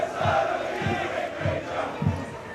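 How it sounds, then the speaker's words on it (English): Fans at a men's university rugby match between Cardiff Met and Swansea cheer their side on in defence. The crowd noise is steady and distant, with rhythmic shouted cries rising and falling every half second or so. "you can just hear the cries of the Cardiff Met fans cheering their team on in defence"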